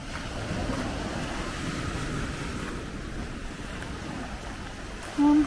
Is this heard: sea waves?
yes